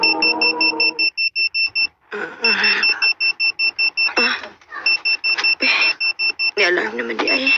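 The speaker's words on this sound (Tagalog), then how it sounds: "Alarm naman di ay." An alarm rings in rapid repeating electronic beeps, loud and close, continuing in pulsed bursts while people talk over it.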